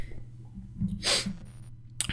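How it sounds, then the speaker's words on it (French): A single sneeze bursts out close by at a low level, a short sharp huff with a breathy tail, over a quiet background during a Batman Arkham Origins play session. "Je dois éternuer, excusez-moi."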